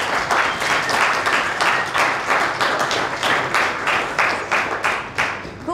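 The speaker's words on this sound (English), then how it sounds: "let's give them a big round of applause as well" An audience at a web development coding bootcamp demo day in Melbourne breaks into applause, a lively, continuous round of hand clapping with sharp individual claps standing out near the front.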